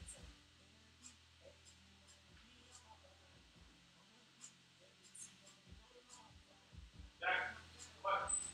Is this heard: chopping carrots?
no